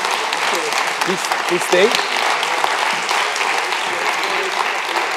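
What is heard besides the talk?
applause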